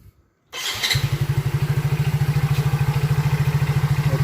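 A Yamaha Soul GT motorcycle turns over on its electric starter after a moment of quiet, catches quickly and settles into a loud, close, steady idle with a regular thumping pulse.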